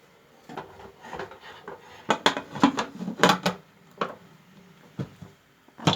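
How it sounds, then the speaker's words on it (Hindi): Metal clanks and scrapes come as a lid is set on a cooking pot while making gajar ka halwa, a carrot dessert, with a handful of close knocks and rattles between quieter pauses. "अब इसको ढक्कन लगाएंगे।"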